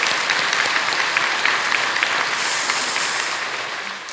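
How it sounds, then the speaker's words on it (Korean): A church congregation applauds its associate pastors, a dense, steady wash of many hands clapping at once, filling the room evenly before tapering off slightly at the end. "우리 부교육자들 향해서 한번 박수로 한번 격려를 보내주시면 감사하겠습니다."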